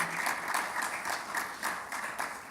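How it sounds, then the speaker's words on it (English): Steady applause from a conference audience for a panel discussion on liveable city design, with dense, continuous clapping at moderate volume and no talk over it. "give the panelists, please, big applause for the contribution"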